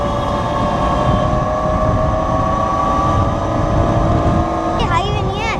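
A metro train rolls past with a continuous rumbling rail roar and a high steady whine, loud and close, while people talk over it.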